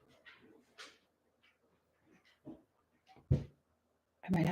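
A dog whimpers and gives short yips and barks in scattered bursts indoors, ending on a louder closing bark; the sounds are moderately near with quiet gaps between them and no talking.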